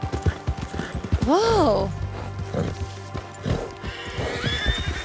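In Red Dead Redemption II, a horse lets out a loud, rising whinny, with other horses neighing and hooves clopping around it as a player speaks in between.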